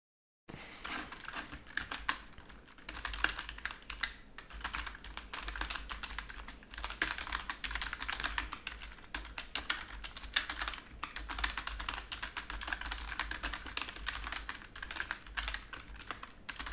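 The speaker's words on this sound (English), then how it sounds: "Maybe the keyboard ASMR truly is something." Computer keyboard typing ASMR: dense, continuous clicking of keys that runs steadily for the whole stretch, close up and even in loudness with no talking.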